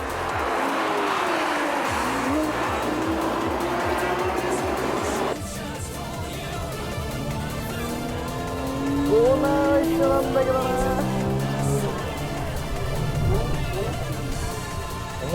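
Japanese and German sports cars, including a Ferrari and a GT-R, race on a track with continuous loud engine roar, shifting pitch as they accelerate, plus tire squeal, while a commentator talks over it.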